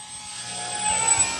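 FMS PA-18 Super Cub, a 1.7 m electric model airplane, flying on its maiden flight on a windy day; a steady whirring drone that holds throughout and swells slightly toward the end as it passes nearer.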